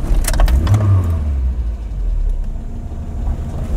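A Talbot Solara car engine turns over and catches, a brief starter whir giving way to a low, steady idle rumble close by, with a faint jingle of keys at the start.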